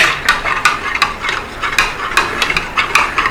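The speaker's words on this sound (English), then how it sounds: "Give it a little stir." A spoon stirs apple cider vinegar into a cup of milk, clinking against the container in a quick irregular series of bright taps and scrapes, close and fairly loud, with no one talking.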